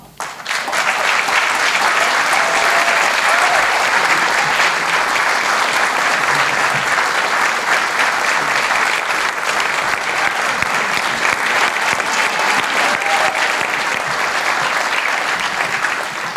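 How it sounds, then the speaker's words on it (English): Sustained audience applause for award recipients at a community engagement appreciation celebration, a loud, dense wash of clapping lasting about sixteen seconds, steady throughout with no talk over it. "another round of applause for all of our award recipients"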